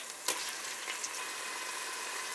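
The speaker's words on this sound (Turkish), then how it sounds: "Ara ara karıştırdığımız soğanların üzerine salçamızı ekliyoruz." Tomato paste frying with onions in oil, a dense even sizzle up close with a single brief clack of a utensil near the start.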